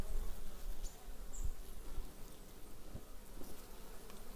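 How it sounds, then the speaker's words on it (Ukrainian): Honeybees fly out of the hive on an overcast day, giving a steady close buzzing drone with a few louder passes. "похмура погода, але бджілки потрошку вилітають"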